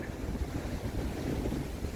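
Wind blows steadily across a deep-shelving beach on the Ligurian coast during a fishing session, a continuous low rumbling roar of gusts buffeting the microphone with surf-like wash beneath, and no talking.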